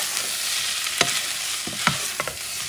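Beans being stirred in a pot along with their fat and juices, a steady sizzle underneath with a few sharp spoon scrapes and knocks against the pot, close and alone.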